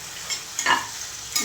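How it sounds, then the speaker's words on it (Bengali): Okra frying in a pan gives a steady, close sizzling hiss, with a few brief stirring scrapes breaking through. "ঢ্যাঁড়স ভাজা হচ্ছে।"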